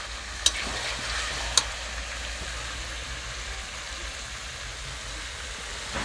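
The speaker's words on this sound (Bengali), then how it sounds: "পেঁয়াজের সাথে ভালো করে কষিয়ে ভাজতে হবে মাংসগুলোকে।" Mutton pieces fry with onions in a pan, making a steady, close sizzle and crackle. Two sharp metallic clinks of a utensil sound early on, and there is no talking.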